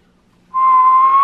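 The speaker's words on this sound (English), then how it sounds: "can you whistle?" A child whistles a single clear, steady note that starts abruptly and holds, loud and close, with no other sound around it.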